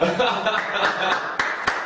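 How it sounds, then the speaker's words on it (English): A small audience claps for Ed, with scattered, separate handclaps close by under someone speaking loudly, the claps coming as a few sharp irregular hits rather than a full ovation. "how about a nice hand of applause for Ed, right?"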